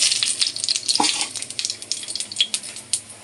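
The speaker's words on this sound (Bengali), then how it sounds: "এই যে পাঁচফোড়ন তেলে দিয়ে দেবো।" Panch phoron five-spice seeds hit hot oil and fry with a bright, crackling sizzle full of tiny pops, joined by a single clink of a utensil against the pan.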